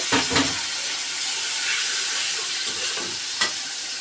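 Spices sizzle and hiss in a hot pan after a splash of water, a steady loud frying roar with a few stirring scrapes near the start and end.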